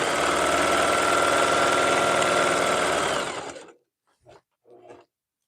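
A sewing machine tube-sewing jelly roll rug strips runs in one loud continuous whirring burst for about three seconds, then winds down and stops, followed by two brief faint handling sounds.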